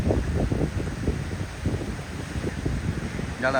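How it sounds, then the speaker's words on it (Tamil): Strong, gusty wind roars across a storm-damaged coastline at Valvettithurai, buffeting the microphone with a continuous low rumble that swells and dips throughout. "இங்கே பலத்தை காற்று வீசி கொண்டு தான் இருக்கிறது"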